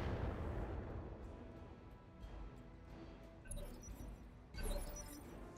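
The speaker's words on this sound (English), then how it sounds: "They're firing on this building, which is fine." Weapons fire striking a building in the video game BattleTech, heavy low booming impacts with a fading rumble, then sharper crashing hits, moderately distant and alone.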